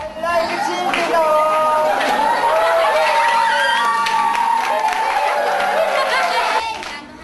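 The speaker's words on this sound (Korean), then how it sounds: "아이들은 환호성을 지릅니다" Children at a lively gathering in Uganda cheer and shout together, a loud, continuous crowd of young voices with excited calls and some clapping, sustained throughout.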